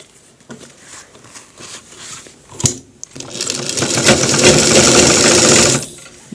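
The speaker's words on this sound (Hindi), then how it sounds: "देखिए सिलाई को इस तरीके से पूरा को पूरा सिलाई लगाना है।" A sewing machine stitching a shirt collar: quiet handling at first, then the motor kicks in for a loud, steady, close-up run of rapid needle chatter lasting a few seconds before stopping.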